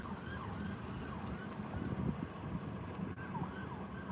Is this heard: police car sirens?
yes